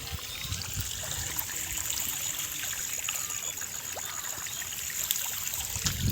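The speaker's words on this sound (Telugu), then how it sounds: "ఇది మా బోరు పోసే నీళ్ళ పరిస్థితి ఏ కాలం అన్నా కానీ ఇటేమో వస్తుంది సుక్క నీళ్ళు కూడా ఎక్కువ కాదు" A thin stream of borewell water trickling out in a weak flow, a faint continuous splashing dribble that runs steadily throughout with no talking.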